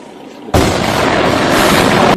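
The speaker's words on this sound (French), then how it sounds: "c'est des gens qui se sont réunis pour regarder l'explosion d'un bâtiment" A building demolition blast in the Czech Republic hits suddenly with a loud, sustained roaring boom that fills the rest of the moment after a quiet start.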